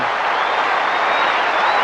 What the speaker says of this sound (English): This crowd has gone absolutely mad